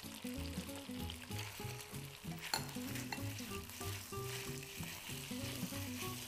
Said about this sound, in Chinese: 这个时候呢我们就可以把洋葱放下来